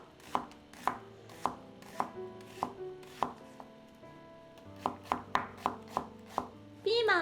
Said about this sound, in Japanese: 玉ねぎはこの半分の長さの薄切りにしていきます。